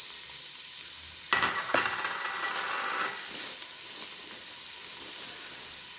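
Onions, peppers and celery hitting hot fat in a pot for Cajun chicken and sausage gumbo, a sudden loud sizzle and stirring clatter that settles into a steady frying hiss, no voices.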